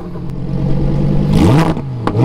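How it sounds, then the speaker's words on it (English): A loud 2020 Lamborghini Huracán Evo V10 engine revs up with a rising exhaust roar, close and powerful, dropping back briefly before climbing again. "exhaust is crazy, super loud"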